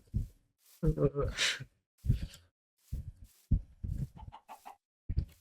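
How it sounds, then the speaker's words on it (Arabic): A chicken in a survival video game clucks in short bursts alongside a player's voice that talks over and between the clucks. "لقيت فرخه."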